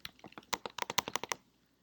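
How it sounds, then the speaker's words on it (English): Quick, light clicking of keys on a computer keyboard, a brief burst of rapid taps close by, fairly quiet with no talking. "I'm typing red character."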